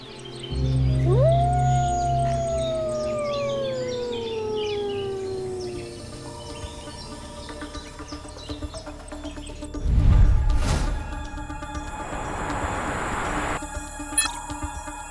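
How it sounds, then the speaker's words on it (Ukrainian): A single long, mournful howl rises, then slowly falls and fades over several seconds, followed later by a brief low rumble. "Вовк виє, закинувши голову назад, і звук лунає на 9 кілометрів."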